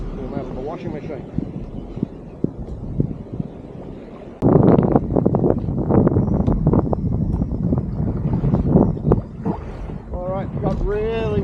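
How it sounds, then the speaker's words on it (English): Strong wind buffeting the microphone out on open water during kayak fishing in Northland, a constant rushing roar that grows much louder midway, with a voice speaking intermittently underneath. "Got really windy out here."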